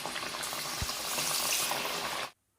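Parippu vada, Kerala-style dal fritters, frying in hot oil, giving a steady, dense bubbling hiss that runs close and loud without a break, then cuts off abruptly near the end.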